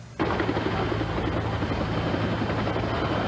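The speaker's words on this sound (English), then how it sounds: "A rescue helicopter from the Los Angeles County Fire Department arrived within 12 minutes." Loud, close Los Angeles County Fire Department rescue helicopter with a steady thumping rotor drone and engine roar, continuous throughout after a sudden start.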